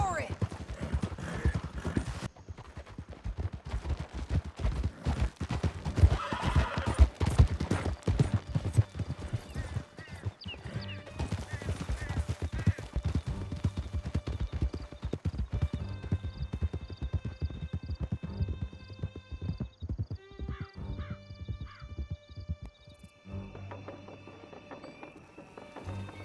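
Horses gallop in Red Dead Redemption 2 with a steady, close clip-clop of hooves and an occasional whinny. Game music, effects and talk run over them.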